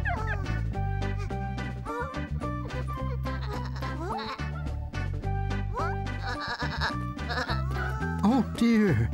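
Several cartoon sheep bleat repeatedly over a steady musical backing, the wavering cries rising and falling at a moderate distance.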